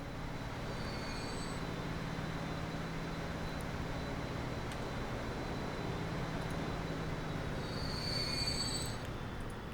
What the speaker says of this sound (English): we've now got 3 significant trains running that line now